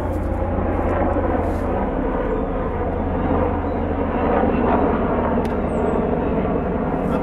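Airplane passing overhead outdoors, a broad, steady engine rumble and whoosh lasting throughout, moderately loud and somewhat distant, with no talking.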